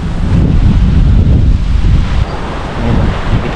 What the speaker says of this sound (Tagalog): Malakas pa rin ang alon guys